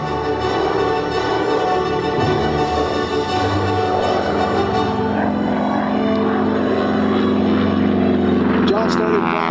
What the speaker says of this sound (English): Big round Pratt & Whitney engine,